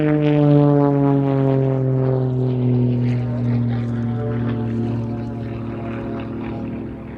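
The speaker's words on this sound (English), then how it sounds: "In fact, a Lycoming IO 540 engine." Propeller aircraft powered by a 300-horsepower Lycoming IO-540 engine at an airshow, a steady loud droning hum with a slowly falling pitch, sustained throughout with no speech.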